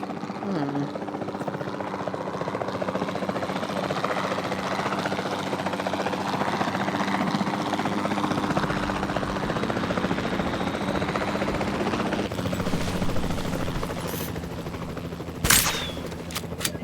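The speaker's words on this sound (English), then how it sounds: "Then the sensible thing is to take a capture team helicopter." A capture team helicopter in the Jurassic World Evolution 2 video game whirs steadily throughout, a continuous rotor and engine drone with a sharp gunshot-like crack near the end.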